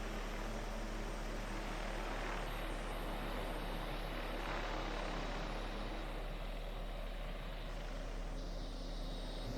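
A Shrike 530F helicopter in Microsoft Flight Simulator 2024 gives a constant, loud engine and rotor drone with deep low rumble and broadband whine, steady and unbroken with no talk over it.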